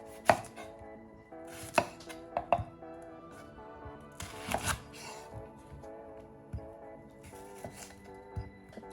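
Knife dicing red onions on a cutting board, sharp irregular chopping taps in small clusters with quieter gaps, close and crisp, no talk, faint musical background underneath.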